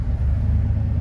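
Low, steady engine rumble from a 1977 Ford Bronco with a Blueprint 302 crate engine, fuel injection and a 5-speed, heard up close just as it comes to life.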